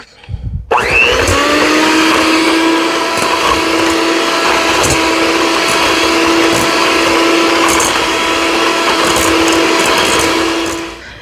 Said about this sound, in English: So the beating it with the mixer doesn't work. It just flies everywhere.